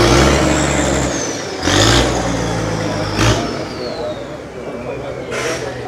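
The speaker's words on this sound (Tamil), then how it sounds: "லாங் டெயில் போட் அப்படின்னு சொல்கிறாங்க" A long-tail boat engine on the water in Thailand drones loud and steady, rising in several revving surges, with voices talking over it.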